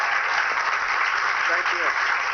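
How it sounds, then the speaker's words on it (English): A standing political rally crowd claps before a speech, a steady broadband wash of applause filling the whole stretch with faint voices and cheers mixed in. "the crowd is standing up and clapping"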